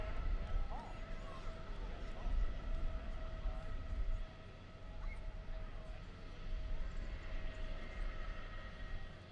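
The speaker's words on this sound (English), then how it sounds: "We have our flyby, the Parkview Samaritan helicopter is with us here today." Parkview Samaritan helicopter flies over a parade at the Bryan Jubilee, heard as a steady low rotor and engine drone that rises and fades at a distance.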